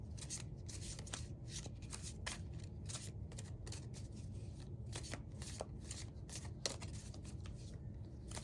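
Tarot cards being shuffled and drawn by hand, a quiet run of soft, rapid riffling flutters and papery slaps in an irregular rhythm, close up with no talking.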